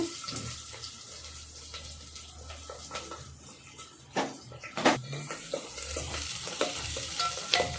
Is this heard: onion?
yes